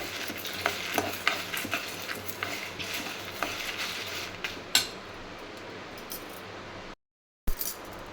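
Spices and asafoetida fry in a pan for sambar powder, with a soft crackle under frequent scraping, clinking stirs of a spoon against the pan, then a brief silence and one last clink.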